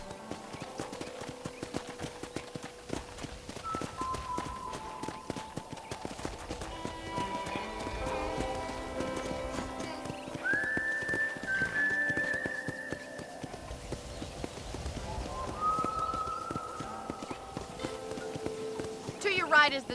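A horse being ridden in Red Dead Redemption, hooves clip-clopping in a steady continuous rhythm throughout, with a neigh or two and people talking over it.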